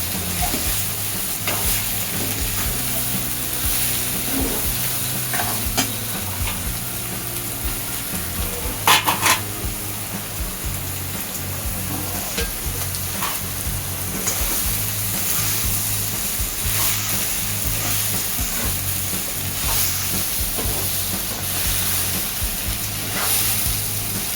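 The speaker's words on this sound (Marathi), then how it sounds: "थोडं सोयाबीन, आता त्याला थोडं परतून घेऊया 1 मिनिटाकरता" Soybean chunks with green chili sizzle and fry steadily in a pan while being stirred, a continuous loud hiss broken by occasional scrapes of a spatula, with no talking.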